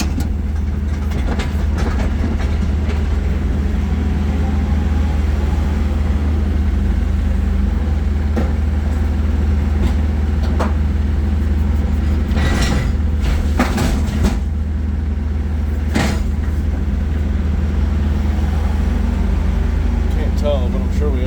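An excavator engine runs from inside the cab with the door open as a steady, loud low drone, with scattered clanks and rattles on top and a voice talking at times.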